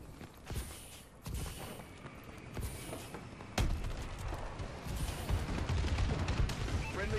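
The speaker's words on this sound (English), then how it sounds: "Friendly bombing run incoming." Bombing-run airstrike in Call of Duty: Advanced Warfare on the Horizon map, rolling blasts and gunfire layered through a dense battle din, with a sharp loud hit near the middle and a sustained rumbling barrage afterward.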